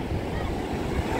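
Ocean surf rolls steadily onto the clean, fine-sand shore of Lingayen beach, a continuous loud wash of breaking water mixed with some wind noise.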